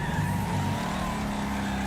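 Racing video game car braking hard on a track, with a sustained tire squeal and skid over steady engine noise, loud and continuous for about two seconds.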